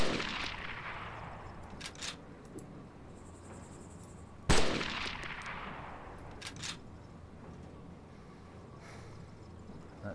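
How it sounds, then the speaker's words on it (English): Gunfire in ARMA 2's Wasteland mode on the Takistan map, heard by a sniper team: two sharp, loud shots several seconds apart, each with a long rolling echo, plus a few fainter cracks in between over a quiet background. "they're shooting at me"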